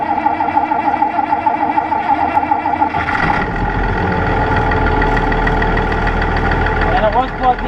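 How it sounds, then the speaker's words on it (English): International Harvester 1586 tractor engine just after a cold start, a steady low diesel rumble and clatter that settles into an even idle after about three seconds, heard close with a voice over the start. "we're going to cold start the 1586 and take it back to my place"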